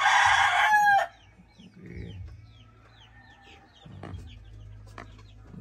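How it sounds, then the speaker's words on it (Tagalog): Rooster crowing loudly close by at the start, then chickens and chicks clucking and peeping softly in a farm yard, with intermittent quiet calls throughout. "may sisiw na. Sisiw na."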